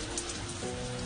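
Steady rain falls and patters on a surface in a brief, even hiss with no voices.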